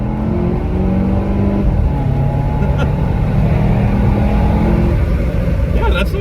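A 2016 Volvo S60 R Design rolls into acceleration in second gear, its engine a loud, steady droning roar heard from inside the cabin, rising slightly in pitch as it pulls, with no talk over it.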